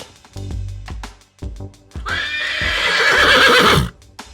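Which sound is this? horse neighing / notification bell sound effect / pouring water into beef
horse neighing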